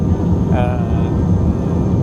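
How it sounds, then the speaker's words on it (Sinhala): Steady low roar of jet engines and airflow fills an airliner cabin during landing descent, a constant broadband rumble with a faint brief tone near the start. "මේක මේ ලෑන්ඩ් කරන්න ඩිසෙන්ට් කරන ගමන් ඉන්නේ"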